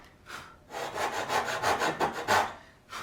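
Hand saw working through a wooden tenon along a full-length kerf, a close run of rhythmic rasping strokes, about eight back-and-forth pulls in quick succession after a couple of short starting strokes, with no talking.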